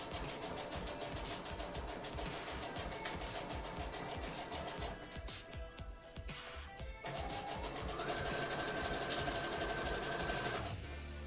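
A sewing machine runs continuously through a cosplay crafting session, a steady close mechanical whir that keeps going, then rises in pitch and pace toward the end before cutting off.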